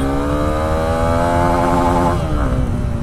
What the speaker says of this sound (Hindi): तो बाइक को अब राइड करके देखते हैं बाइक चलने में कैसी है।